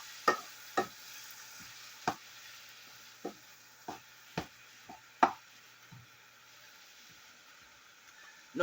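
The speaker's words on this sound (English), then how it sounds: "I'm just gonna stir this up" Stirring tripe and butter beans in a pot, with a series of about nine separate knocks and scrapes of the spoon against the pot, close and fairly quiet, over a low steady hum.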